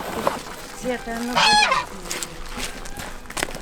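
Geese honk loudly while being packed into boxes for delivery, several close, harsh honks with one sustained burst in the middle amid rustling handling noise.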